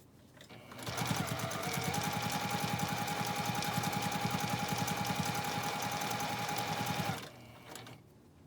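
Sewing machine running a continuous stitch along a scrub cap strap, a close, steady mechanical whir with rapid needle chatter lasting about six seconds before stopping.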